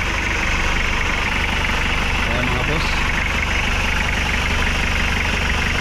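A Toyota Hilux fitted with a 3L engine in place of its original 2L, idling steadily with a dense, continuous diesel rumble close by while someone speaks briefly over it.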